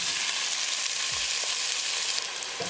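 Onion frying in about a quarter cup of hot vegetable oil with cumin seeds in a pressure cooker on a gas stove, a steady, loud broadband sizzle with a few soft stirring bumps, no voices.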